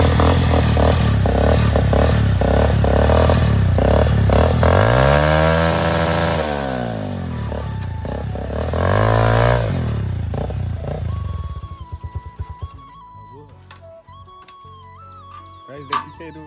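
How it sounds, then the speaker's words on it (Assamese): A hybrid motorcycle engine runs loud and close with a steady buzzing drone that rises and falls as it revs, then cuts away to quieter clatter and a tonal hum near the end. "এইটো হাইব্ৰিড বাইক"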